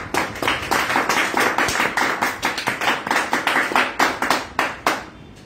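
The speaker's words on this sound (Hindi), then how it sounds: "तालियां तालियां।" A small group of students clapping in a mobile phone repair classroom, close and uneven, with distinct individual claps forming a loose, irregular rhythm for several seconds.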